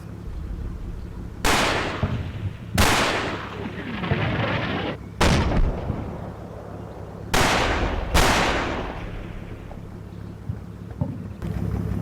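Bursts of infantry gunfire against a Panther tank in the WWII game Combat Mission Normandy, France 1944: five loud, sharp cracks at irregular intervals over a steady low engine rumble and wind.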